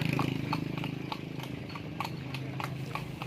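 Horses pulling andong carriages around Malioboro Street in Yogyakarta, their hooves clip-clopping in a steady rapid rhythm against the road amid busy street noise.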